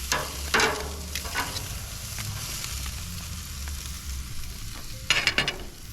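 Meat sears in a hot pan with a steady sizzle, broken by a few sharp clatters and scrapes as the pieces are turned over, close and with no talking.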